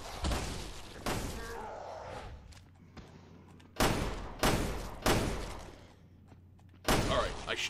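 Several sharp, loud gunshots ring out one at a time with pauses between them in Resident Evil: Revelations 2, each a hard crack with a short decaying echo, against a low hum.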